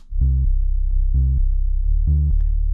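Three sustained, buzzy sub-bass synth notes from Synth1 run through a wave shaper, with bright overtones, each held about a quarter second with short gaps, loud and alone over a constant low drone.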